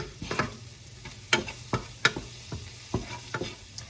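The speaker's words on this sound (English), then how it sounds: "So I'm sauteing the onions" Onions sautéing in a pan with butter, a soft background sizzle broken by repeated scraping, clinking stirs of a utensil against the pan, close and quiet.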